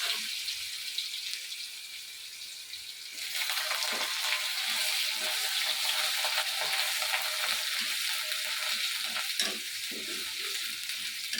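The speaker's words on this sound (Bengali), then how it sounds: "আলুটা একটু লাল লাল করে ভাজতে হবে।" Potatoes fry in a pan for a Bengali banana-flower dish, a steady broad sizzle that jumps louder partway through with occasional stirring scrapes, close and continuous with no talk.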